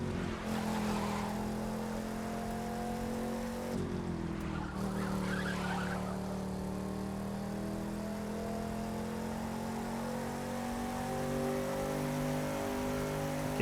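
A car drifting in the racing game The Crew 2, steady engine drone with sustained tire squeal and skidding hiss, a brief surge of skid noise midway, all fairly faint.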